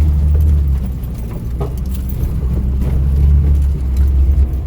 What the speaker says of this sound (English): God, this is a bumpy ride.